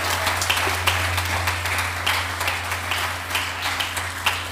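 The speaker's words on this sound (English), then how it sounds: "Come on, let's give them a round of applause." An audience at a church service claps steadily, a dense continuous round of applause with a low hum underneath and no clear talking.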